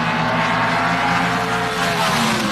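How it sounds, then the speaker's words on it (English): Pro Stock drag cars, a Chevrolet Monza against a Ford Mustang, at the 1977 NHRA Springnationals, a loud continuous engine roar held at a steady pitch throughout. "the classic Ford versus Chevrolet battle, the Monza of Iaconio, the Mustang of Nicholson"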